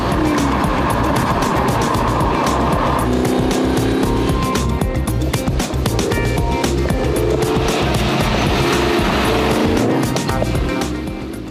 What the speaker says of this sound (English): But who cares about the bare stats when you can indulge in the growl of the 8-cylinder beast under the bonnet?